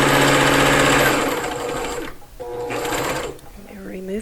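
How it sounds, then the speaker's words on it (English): A sewing machine stitches a lotus petal fabric piece in a loud, close, steady whir for about two seconds, pauses briefly, then runs again in a shorter burst before stopping. "I'm only sewing what I want to sew."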